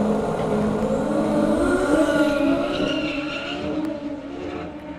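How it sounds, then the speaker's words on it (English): Drag racing cars squeal their tyres at a Summer Nationals event, a loud sustained screech with layered engine tones that fades slightly toward the end, heard without talk. "Going to say there's a lot of squealing going on."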